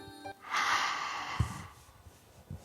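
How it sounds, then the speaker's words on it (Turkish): A long, deep inhale rushes in close to the microphone, followed by quieter breathy noise and a couple of soft thumps. "Derin bir nefes al."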